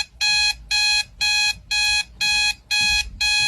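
A 1980s alarm clock screeches in seven loud, evenly spaced electronic bursts, each about a third of a second with short gaps, harsh and buzzy, alone with faint low background noise.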